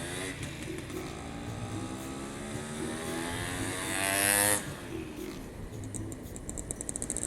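A Yamaha F1ZR two-stroke motorcycle engine drones with a rising and falling pitch as it passes, heard from the riding position under wind rush, with a loud whooshing swell partway through.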